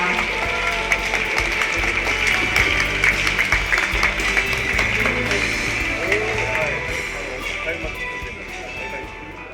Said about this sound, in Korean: 여러분 뜨거운 박수로 도지사님을 맞이하시기 바랍니다